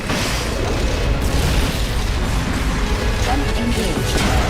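Continuous heavy booming blasts of S-mines going off in Metal Gear Solid Peace Walker, loud dense detonations layered over each other with no pause for the full stretch.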